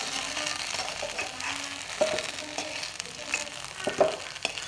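Potato pieces and drumsticks fry in hot oil, a close, crackling sizzle with a few sharper pops and stirring scrapes that rise and fall briefly.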